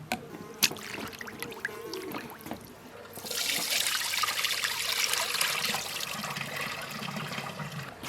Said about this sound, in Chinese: 切好的羊肝用水多洗几遍，把血水洗出个控干腌上。